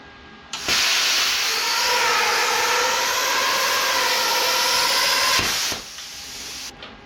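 An Amico CUT-50HF pilot arc plasma cutter slicing through painted metal, a loud, steady hissing roar that starts abruptly, holds for about five seconds with a faint tonal whine, then cuts off sharply, leaving quiet background.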